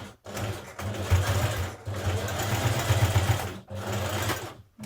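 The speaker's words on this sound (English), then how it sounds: "Secure the ends of your elastic using a zigzag stitch." A sewing machine zigzag stitches the ends of elastic on a Simplicity 2184 skirt in three steady whirring runs of rapid needle chatter, close and clear, with short stops between them.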